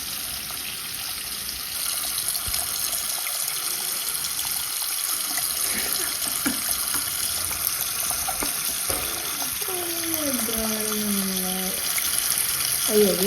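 Tap water runs steadily into a sink while a large fish tank is being cleaned, a continuous close hiss of flowing water under occasional splashes, with a voice talking briefly near the end.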